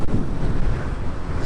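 Wind rushes steadily past while riding a Yamaha SZ motorcycle along a green country road, a loud, even roar filling the short moment with no talking.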